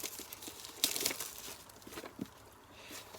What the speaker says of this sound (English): let's get the cellophane off